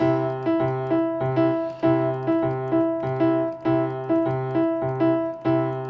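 With the hands swapped, a three-against-four polyrhythm repeats in even cycles, crisp struck notes ringing over one another, close and steady with no voices.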